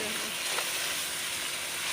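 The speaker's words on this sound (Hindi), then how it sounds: "अच्छी तरह फ्राई हो गया" Bhindi keema, okra cooked with minced meat, fries in a pan with a steady, close, hissing sizzle that holds evenly throughout.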